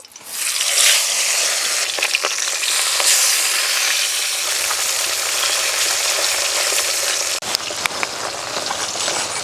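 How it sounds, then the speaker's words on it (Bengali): Fish pieces fry in hot oil with a loud, dense, crackling sizzle that runs continuously and close up, with a few faint clinks and no talking. "বাকি মাছগুলো কিন্তু একইভাবে ভেজে নেব।"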